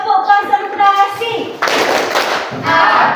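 Indonesian classroom pupils perform rhythmic concentration clapping in unison, a burst of quick hand claps between stretches of a voice and children chanting.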